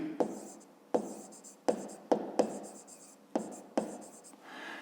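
A pen writing out a maths solution on paper, several bursts of scratchy scribbling strokes separated by short pauses, close and clear with no talking.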